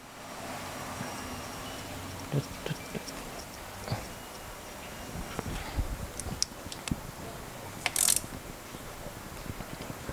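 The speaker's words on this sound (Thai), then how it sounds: "จากนั้นก็ ปิดน็อตเหมือนเดิมนะครับ" A mechanic tightens the oil drain bolt on a 2022 GPX Drone 180cc motorcycle, producing faint scattered metallic clicks and ratcheting ticks from close by over a quiet workshop background, with a sharper clink near the end.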